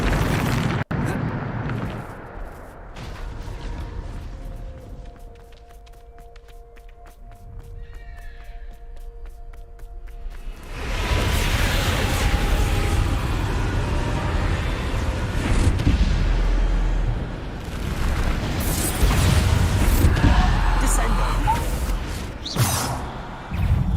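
Bombarda blasting spells going off in the video game Hogwarts Legacy, heavy roaring explosions and rumbling debris filling the second half after a quieter stretch with faint musical tones.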